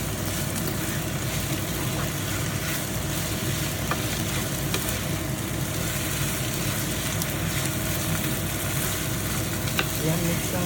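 Glutinous rice, white and purple, is mixed in oil in a pan for biko, giving a constant, loud wash of sizzling and scraping with no clear pauses. No one speaks over it.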